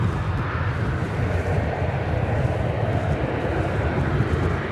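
An American Airlines Boeing 777 departs DFW Airport with a deep, rumbling jet engine roar, heavy in the low end and fairly loud, holding steady and unbroken for a few seconds.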